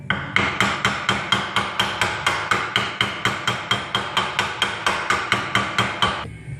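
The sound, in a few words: tapping rear differential bearing into place with hammer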